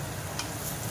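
Whole cumin and garlic fry in mustard oil in a pan with a steady, close sizzle and faint stirring for under a second, with no voices.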